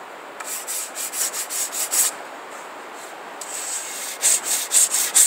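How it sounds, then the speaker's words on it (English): Short strokes of a rigid 120-grit sanding block feathering the edge of a rawhide-backed wooden bow, a string of rhythmic rasping rubs close up, pausing briefly midway before resuming in quicker bursts. "when I'm cleaning it up with 120 grit, I don't want to have a flexible sanding block"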